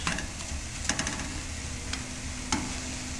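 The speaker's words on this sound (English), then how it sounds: "Gotta show you how to make fried spaghetti too." Leftover spaghetti frying in a pan: a continuous close sizzle with occasional light stirring scrapes and clicks of a utensil against the pan.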